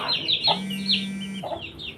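Clucking from newly brought-in chicks kept in a pen, a few short repeated calls close by with one sustained tone under them.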